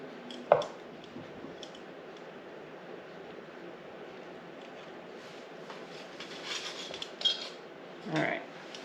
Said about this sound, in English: I sharpened my knife so that this would hopefully cut easily and not ruin the pretty inside.